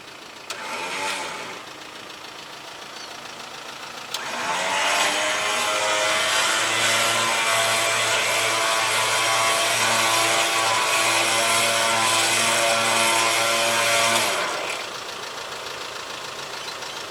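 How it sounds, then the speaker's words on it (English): Vehicle engine running steadily while its winch re-spools rope, a loud, even mechanical drone with a whining motor tone and a rhythmic pulsing for about ten seconds, quieter idling before and after. "I've left the engine running so the winch has plenty of power."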